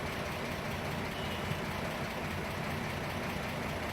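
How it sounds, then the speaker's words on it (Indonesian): A car engine idles steadily after a fingerprint-activated start system turns it on, giving a constant low rumble and hum that stays loud and even throughout, with no voices. "mesin mobil akan hidup dan sistem ini akan berfungsi normal kembali."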